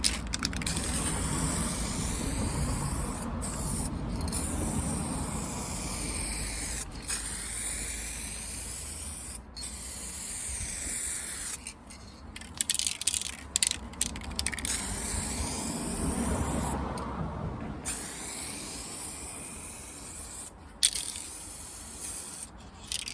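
Steady hissing spray of lacquer coats being applied to a Mercedes SLK R170 car boot under restoration, long continuous passes broken by short pauses, close and moderately loud.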